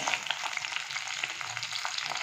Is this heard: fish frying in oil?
yes